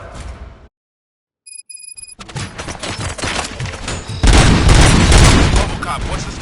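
Gunfire in Robocop: Rogue City, a burst of loud booming shots and rattling automatic fire after a moment of silence, building into a dense, heavy barrage with game voices around it.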